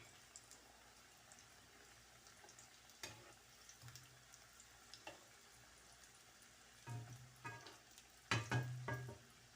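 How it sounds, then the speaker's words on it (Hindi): A samosa frying in hot oil gives a faint, soft sizzle with scattered bubbling pops, swelling into a few louder bursts of crackling near the end. "मैं समोसा एक ही फ्राई करने वाली हूँ"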